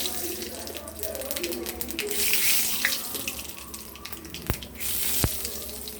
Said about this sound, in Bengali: বাটিটাকে ধুয়ে জলটা দিয়ে দেব।